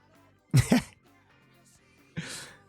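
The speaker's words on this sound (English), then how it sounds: "My cough was coming back." Two short, harsh coughs close up, separated by a brief pause of quiet.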